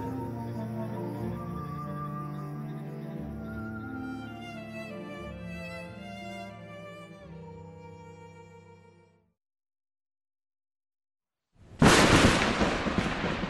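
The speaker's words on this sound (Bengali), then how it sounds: "হঠাৎ জোরে বাজ পড়ার আওয়াজে অলকার ঘুমটা ভেঙে যায়।" A sudden loud thunder crash erupts after eerie music fades into a couple of seconds of silence, a dramatic storm effect in a Bengali horror story, rumbling on to the end.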